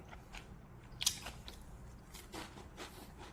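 A single crisp bite into a cracker canapé topped with cream cheese and apple, a short crunch near the mic followed by soft chewing, with no talking.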